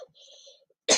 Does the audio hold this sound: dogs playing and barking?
no